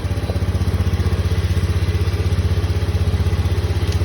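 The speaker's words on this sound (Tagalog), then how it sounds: "So mga boss, may problema yung motor natin." A Honda Beat fuel-injected motorcycle engine with a misfiring, sputtering fault idles close up, a steady rapid putter with light mechanical clatter running throughout.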